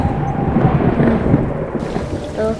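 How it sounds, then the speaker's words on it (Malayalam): Heavy thunder rolls outside during a storm: a loud, close, low rumble that swells and fades over rain, with no voices. "വെളിയിൽ നല്ല ഇടി വെട്ടുന്നുണ്ട്."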